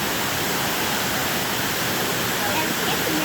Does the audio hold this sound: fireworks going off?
no